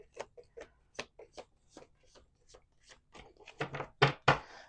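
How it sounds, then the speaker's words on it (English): Playing cards being shuffled by hand, a series of crisp riffling bursts and taps at close range, growing louder toward the end, with no one speaking. "Two more shuffles after this."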